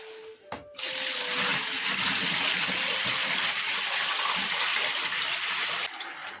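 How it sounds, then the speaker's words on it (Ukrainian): Brine water poured from a container over pieces of meat set in bowls with garlic, a steady gushing splash that starts abruptly, runs evenly for about five seconds close by, then stops. "І тепер буду заливати розсолом."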